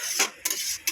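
Hilsa fish sizzles in a wok with repeated scraping strokes of a spatula, three quick stirs over a steady frying hiss.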